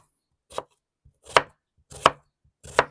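Four separate, crisp knife chops land on a cutting board as a red onion is chopped very finely. The strikes are close and evenly spaced with short silences between them.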